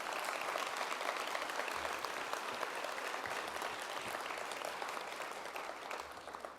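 Applause at an innovation week pitch event: a full room claps steadily and evenly throughout, a dense crackling wash heard from a moderate distance that tapers slightly at the very end.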